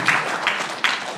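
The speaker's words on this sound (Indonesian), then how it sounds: "Tepuk tangan untuk Kang Olive." An audience claps for a guest named Kang Olive at a pencak silat sharing session, a brief burst of steady, moderately loud applause with a few sharper swells.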